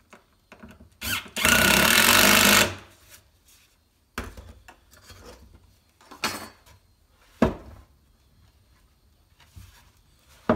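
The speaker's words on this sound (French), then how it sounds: "Je mets 2 vis par planche, vous pouvez en mettre plus ou moins." A power screwdriver drives screws into pallet wood planks for a planter, two per plank: one long whirring burst, then several shorter bursts with clattering handling between them, close and fairly loud.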